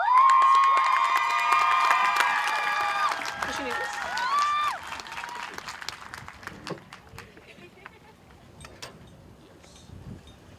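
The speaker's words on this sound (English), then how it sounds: "Please give her a round of applause." Audience at a high school graduation, Moreno Valley High School 2025, breaks into loud applause with cheers and shouts, the burst fading over the next few seconds into scattered claps and crowd murmur.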